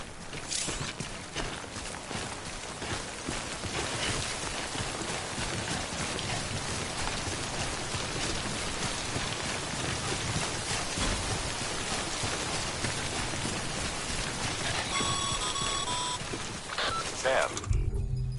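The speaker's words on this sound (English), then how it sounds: "Don't stay out in the rain any longer than you have to." Steady timefall rain in the video game Death Stranding, a continuous dense hiss of falling drops spread evenly across the scene, moderately loud and unbroken, with a few faint tonal blips near the end.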